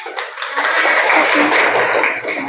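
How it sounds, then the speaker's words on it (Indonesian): A classroom of students bursts into a short, loud round of applause during a mathematics lesson on sequences and series, the clapping blending into a dense, close wash. "Tepuk tangan untuk"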